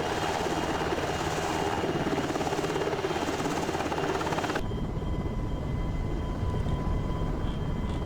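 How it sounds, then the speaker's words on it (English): A helicopter in the Prepar3D v3 flight simulator gives off a loud, steady rotor and engine drone that cuts abruptly to a quieter, duller interior tone partway through, with no one talking. "Let's run to the chopper"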